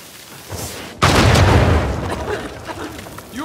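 A loud explosion bursts in the Uncharted 4 video game, a sudden booming blast that rumbles and crackles with debris before fading into softer game ambience.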